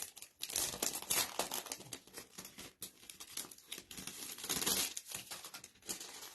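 Champagne gold foil transfer sheet being handled and crinkled, a continuous close, dense crackling and rustling of thin metallic foil with brief pauses, no talking.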